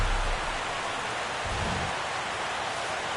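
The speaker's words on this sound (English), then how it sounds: "the rain's coming down pretty good here at Fenway Park in Boston" Steady rain pours down on Fenway Park in Boston in the MLB The Show 17 baseball game, a dense, continuous hiss of falling water with a faint low rumble underneath.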